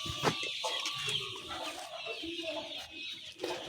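Layer hens cluck and squawk in a continuous chorus inside a farm house, close and fairly loud, with no talk over them.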